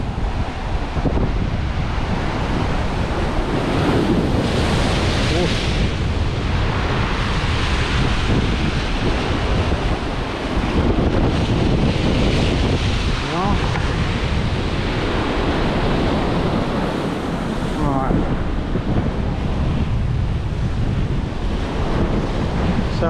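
Rough sea surf at a pier in Protaras, Cyprus, waves washing and splashing up continuously, loud and close, with heavy wind buffeting the microphone throughout.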